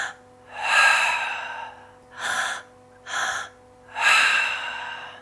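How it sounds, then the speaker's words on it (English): Breathwork breathing up close: a deep inhale drawn into the low belly and then the high chest, followed by a breathy exhale. The long, airy breaths come in a repeating pattern with short gaps between them. "I'm going to do a couple rounds of breath so you can see what my breath sequence sounds like"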